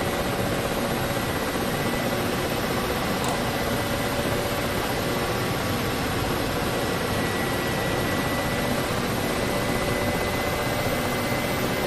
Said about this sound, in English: Hear the turbines straining even more as I put the collective on.